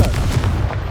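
A single Confringo spell explosion in Hogwarts Legacy, a loud low boom with a rumbling tail that fills the whole short moment on its own, with no talk over it.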